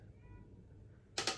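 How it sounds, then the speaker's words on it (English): A pet cat gives a brief, close meow near the end of an otherwise quiet indoor moment, two quick bursts following faint background hum. "So if you hear her meowing back there, that's what's happening."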